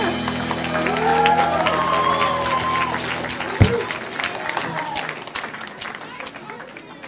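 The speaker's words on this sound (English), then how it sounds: "Back for another round of applause" Applause from a congregation at a multigenerational Purim service, a mix of clapping and crowd noise with a few shouts and brief sung or spoken voices, plus one sharp thump midway, fading gradually.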